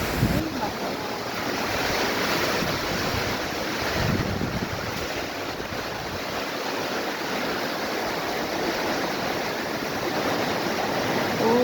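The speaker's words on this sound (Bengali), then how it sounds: "এখনো গাছে বাতাস আছে" Strong wind rushes through trees in a constant roaring whoosh, close and loud outdoors, with no clear pauses.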